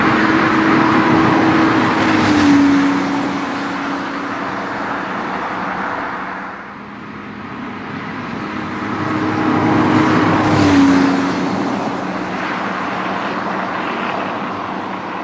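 A Porsche 997.1 Carrera 4S fitted with a SCART Ultima sport exhaust drones loudly and continuously, its exhaust note swelling twice into stronger surges before easing back.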